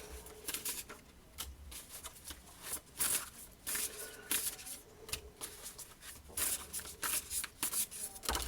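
Tarot cards shuffled by hand in quick, crisp bursts of papery riffling and patter, soft and close, repeating irregularly throughout.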